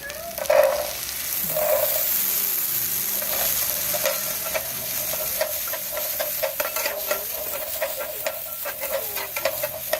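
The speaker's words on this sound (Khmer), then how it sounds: "យើងយកត្រប់ពីញងហើយនឹង ម្ទេសខ្ទឹមសខ្ទឹមក្រហមយើងយកមកលីងសិន" Eggplant, chili, garlic and shallots dry-roasting and being stirred in a pan, a steady low sizzle with repeated scraping stir strokes, close by and unbroken, with no talking.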